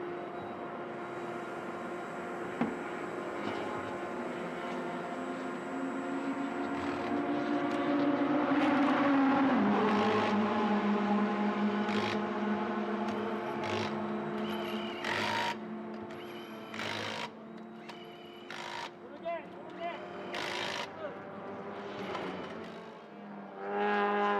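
Touring cars racing in the Malaysia Touring Car Championship 300 km endurance race: steady engine drone with rising and falling pitch as cars pass, sharp bursts of noise toward the end, loud and continuous with no clear talk.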